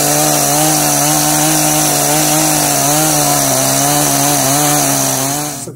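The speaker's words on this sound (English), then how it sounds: "help out a little bit on each end with the chainsaw" A chainsaw roars loudly and steadily at close range, cutting down into a log before hand splitting, with a slightly wavering engine pitch before dropping off at the end.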